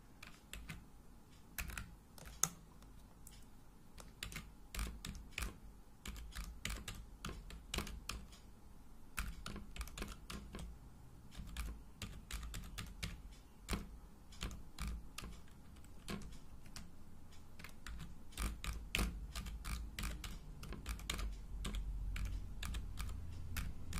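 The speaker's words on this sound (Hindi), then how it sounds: "अब हम लोग यहां पर प्रोग्राम टाइप करते हैं" Steady typing of a C++ program on a computer keyboard, a continuous run of close, crisp key clicks with irregular rhythm and occasional louder strokes, no voices.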